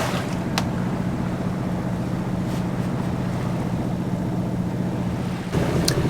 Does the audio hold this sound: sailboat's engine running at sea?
yes